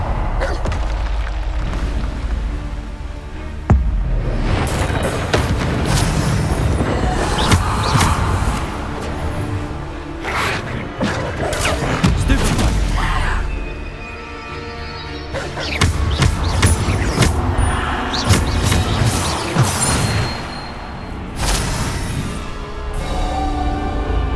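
Repeated Bombarda spell explosions in the Hogwarts Legacy video game, loud booming bursts and thuds recurring throughout amid dense combat noise.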